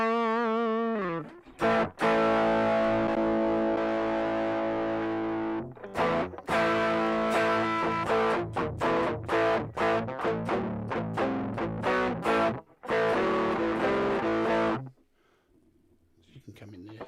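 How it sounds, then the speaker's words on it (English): Electric guitar played through a very light, basic distortion on the yellow cab setting of the IK Multimedia X-Drive iOS app, ringing chords and single-note runs with short pauses between phrases, close and steady, no voices over it. "So you've got this basic, very basic distortion there,"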